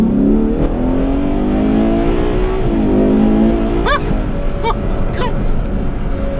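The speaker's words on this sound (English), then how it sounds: "Listen to the V12! Oh, the downshift!" Ferrari 812 GTS V12 revving and accelerating hard up close, pitch climbing smoothly, then dipping with downshift blips and rising again, loud and continuous.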